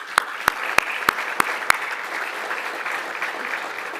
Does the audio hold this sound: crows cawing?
no